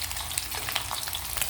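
A pork chop frying in a pan gives a steady, close crackling sizzle with dense spitting pops throughout, no voices present.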